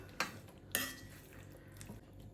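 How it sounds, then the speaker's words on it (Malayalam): Hog plum pickle being stirred in a pan, with two sharp utensil clinks against the metal followed by softer scraping and faint bubbling, close and fairly quiet, no talk. "എല്ലാം കൂടി നന്നായി ഒന്ന് മിക്സ് ചെയ്യുക"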